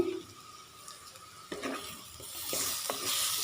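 Chopped medium tomatoes tipped into hot spiced oil for a Kerala okra and tomato curry, giving a brief sizzle that builds into steady frying hiss with a few spoon scrapes and stirring knocks in the pan.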